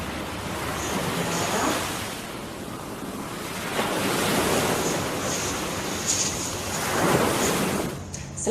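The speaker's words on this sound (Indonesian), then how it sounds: "Sambil kita mendengarkan suara deburan ombak." Steady ocean surf washing and crashing in broad rolling swells, with a few stronger wave surges; no voices.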